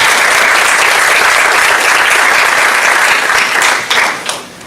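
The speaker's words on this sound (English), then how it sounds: "give them a round of applause." A room of people at a clinical practice event gives the exhibitors a round of applause, loud and close, with dense clapping that holds steady before thinning and fading away at the end.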